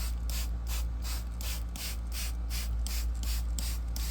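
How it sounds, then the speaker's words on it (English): Repeated bursts of spray hiss as cleaning solution is sprayed onto car seats, roughly a dozen quick pumps in a steady rhythm, close by over a low constant hum. "my process on them is to spray on my solution"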